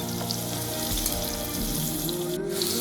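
Sliced onion with a little turmeric fries in a pan while a spoon stirs it, giving a continuous loud sizzle with faint scraping and no talk.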